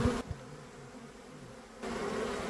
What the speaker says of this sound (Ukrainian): Там купа бджіл просто. Там все в бджолах.